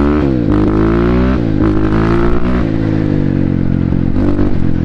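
A BSE Z7 motorcycle engine runs continuously while riding, loud and close, with a steady harmonic drone that rises and dips slightly as the throttle changes.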